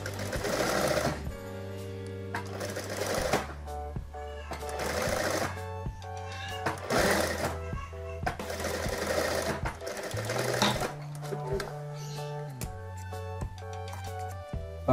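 An electric sewing machine stitching a child's dress runs in loud, close bursts of rapid mechanical whirring with a strong steady hum, pausing and restarting several times, with no speech.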